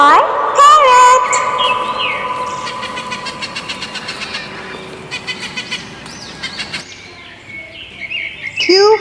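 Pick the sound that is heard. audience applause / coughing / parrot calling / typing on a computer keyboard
parrot calling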